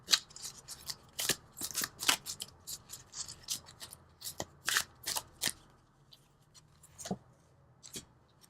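Tarot cards shuffled and pulled from a deck, a rapid run of crisp, riffling card flicks and slaps close up, thinning out into a few isolated snaps near the end.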